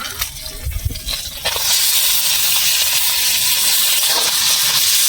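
Boiled taro is stirred into spices in a hot pan while cooking taro greens, giving a steady hissing sizzle that swells after a second, with soft scraping stir strokes at the start.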